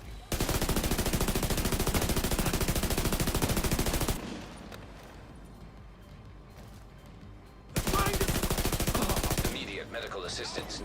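Sustained automatic gunfire in The Division 2 rattles loudly for about four seconds, drops to a quieter lull with scattered sounds, then returns in a second dense burst of rapid shots.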